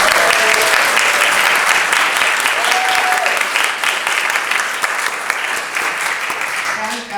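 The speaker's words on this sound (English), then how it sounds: "let's have a round of applause for all these great artists" Audience applause for the artists at a book launch party held at the Italian Cultural Institute in Los Angeles, a dense, steady wash of clapping that keeps going for the whole stretch and eases slightly near the end.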